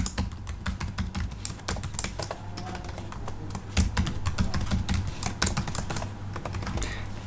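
Steady typing on a computer keyboard while entering account details on a sign-up form, rapid clustered keystrokes close and clear with no voices.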